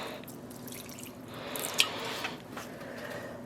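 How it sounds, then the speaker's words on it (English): Water poured carefully into a dye pot holding layered yarn, a soft continuous trickle with a few faint drips, fairly quiet and close with no talking. "But I am going to carefully increase the volume of water"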